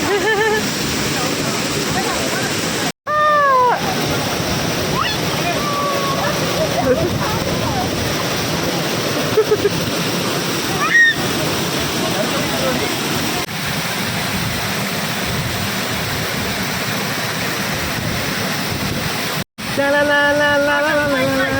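Kattikayam waterfall in Kottayam, Kerala, gives a continuous broad rushing roar of falling water, with people's voices rising faintly over it now and then and a couple of short cuts in the sound.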